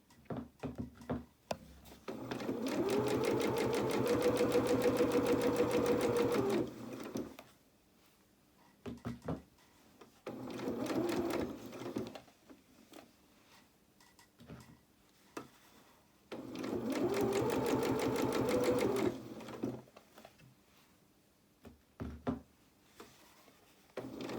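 A sewing machine stitching fabric for a doll's twirling dress, running in three bursts of steady rapid whirring, each lasting a few seconds, with quiet pauses and small handling clicks in between.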